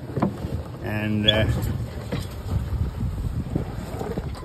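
Wind gusts and buffets across a sailboat crossing the Atlantic with a broken rudder, a steady rushing roar with water noise and a short tonal whine, while someone speaks briefly.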